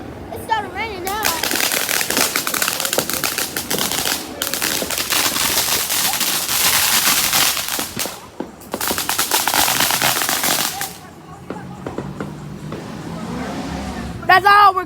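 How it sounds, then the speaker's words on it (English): Fireworks and firecrackers bursting outdoors as rain begins, a dense, loud run of crackling pops and blasts that continues for most of the stretch, easing near the end, with voices calling out over it. "Hurry up, firework. It started raining now."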